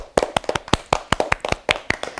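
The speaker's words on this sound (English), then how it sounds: "Let's clap for ourselves" A classroom of young students claps together in an uneven burst of sharp, close hand claps with a brief irregular rhythm.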